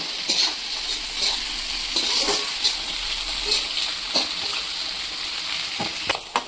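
Chowmein frying in a large frying pan, a steady close sizzle with intermittent scraping and stirring clicks throughout.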